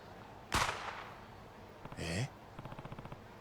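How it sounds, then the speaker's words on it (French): A single sharp gunshot cracks loudly in the video game Judgment, followed by a short burst of mechanical noise and a quick rattling series of clicks. "Un coup de feu."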